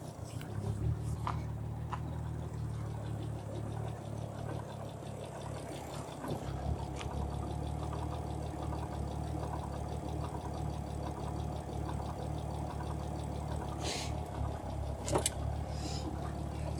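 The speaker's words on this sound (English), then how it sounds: "So it's idling quite lean," A Ford Anglia engine idles lean with a fault in its fuel-injection setup, giving a steady low rumble that shifts in pitch partway through, with occasional clicks and taps nearby in a garage setting.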